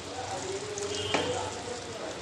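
Potatoes sizzling as they go into hot oil with frying vegetarian khichuri, a steady close crackle with a brief louder burst midway, alone without talk.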